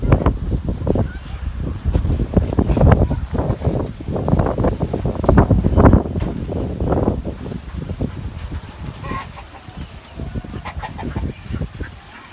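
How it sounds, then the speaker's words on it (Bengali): Strong gusty wind buffets the microphone in heavy low roars, with chickens clucking faintly in the background. "অনেক অনেক বাতাস"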